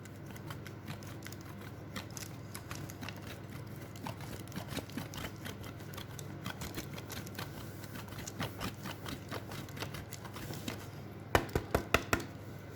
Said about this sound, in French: on va râper un peu de gruyère